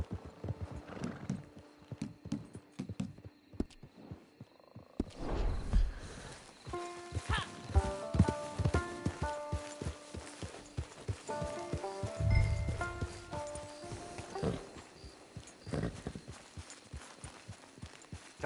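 Horse hooves clip-clop steadily in Red Dead Redemption 2 Online, with a horse whinnying now and then. The hoofbeats sit under game music with chiming notes and a voice speaking faintly.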